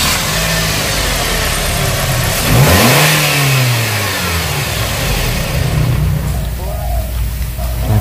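Nissan X-Trail T30 engine running in a workshop with a rattling noise from the tensioner and alternator pulley, a steady mechanical drone that swells briefly near the middle, with people talking over it.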